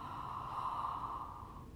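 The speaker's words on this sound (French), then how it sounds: "On fait le bâillement." A long open-throat yawn during a singing warm-up exercise, a steady breathy tone lasting under two seconds, close and soft.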